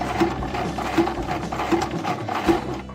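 A sewing machine stitches a hem on a tote bag in a loud, close, continuous whir with a regular pulsing needle rhythm over about three seconds.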